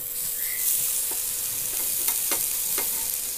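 Masala dosa frying on a pan while potato curry filling is spread over it, a steady close sizzle with a few soft scraping strokes from the spreading.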